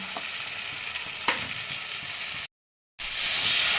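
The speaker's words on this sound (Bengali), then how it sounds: "আদা রসুন বাটা। এটাকে একটু কষিয়ে নেব। একটু ধনে আর জিরের গুঁড়ো আমি দিয়ে দিলাম।" Ginger-garlic paste sizzles steadily in a pan of hot oil with ground coriander and cumin for a Bengali rohu fish curry, with a stir scrape partway, a brief gap, then louder renewed frying.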